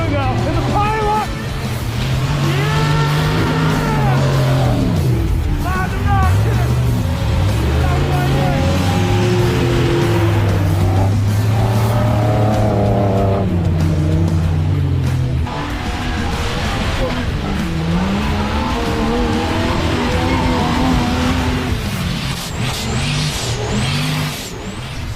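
Off-road race trucks roar and rev through snow at a freezing Blizzard Baja event, engines rising and falling as they pass, with a voice talking over the engine noise and crowd babble in the background.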